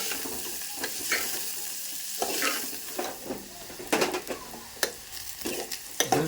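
Bitter gourd pieces frying in oil until they turn brown, a steady close sizzle broken up by repeated scraping stirs and light utensil knocks against the pan.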